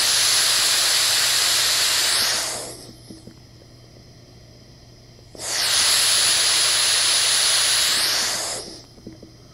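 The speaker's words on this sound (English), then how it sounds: "So that's with pink noise." Pink noise played loudly through headphones gives a steady broadband rush that runs for about two seconds, cuts off, then returns for another long stretch.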